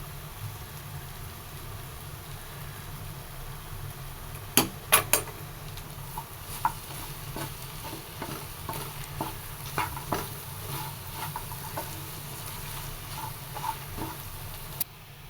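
Beef fry, nadan style, stirred in a pan with a tablespoon of pepper powder: a steady sizzle runs throughout while a spoon scrapes and clinks against the metal in a loose, irregular rhythm, close and fairly quiet.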